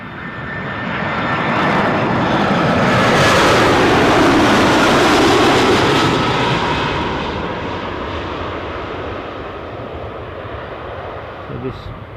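A delayed incoming flight from Bristol arriving at Newcastle Airport, its aircraft engines building to a loud, broad roar that peaks mid-pass and slowly fades while remaining steady, with a voice briefly heard.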